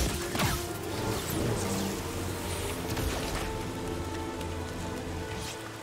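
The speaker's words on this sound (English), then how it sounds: "let's go under the waterfall first, because that looks like a secret area" Waterfall on Kashyyyk in the game Star Wars Jedi: Fallen Order, a loud, dense rushing roar of falling water, continuous with splashes over a low hum.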